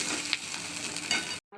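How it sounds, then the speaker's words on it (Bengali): Chopped onion and ginger sizzle and crackle in hot oil while being stirred, a steady close frying hiss with small pops that cuts off abruptly at the end. "এটা হালকা হালকা ভেজে নেব পেঁয়াজ"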